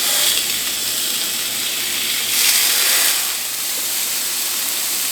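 Plant-based burger patties sizzle on a hot griddle, a steady broadband hiss that swells briefly around the middle, with no talking.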